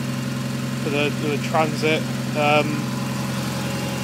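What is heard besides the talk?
van engine idling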